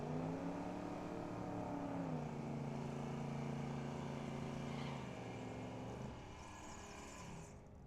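A Chevrolet Silverado races down a drag strip at full throttle, its engine droning loud and steady with a rising pitch before the sound drops and fades toward the end.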